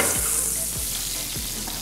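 Potatoes sizzle steadily in butter in a pan alongside crispy-skin salmon, a loud continuous hiss with a few soft low knocks as they are moved.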